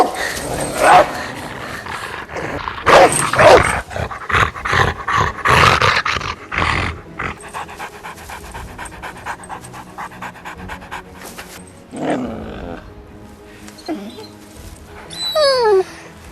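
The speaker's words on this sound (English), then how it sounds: "one of the hunting dogs caught Misha's scent and charged after her" Hunting dogs pant heavily and bark in close, loud bursts, with whimpers and scuffling between, in a busy, layered chase scene.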